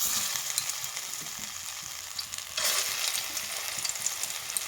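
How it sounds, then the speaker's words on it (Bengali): Pointed gourd pieces stuffed with red lentil paste fry in hot oil in a kadai, giving a steady, close sizzle that holds throughout and briefly swells louder midway, with no voices. "তো যে সাইডে আমার ডাল দেওয়া আছে পুরটা, তো ওই সাইডে আমি উল্টে উল্টে ভাজবো।"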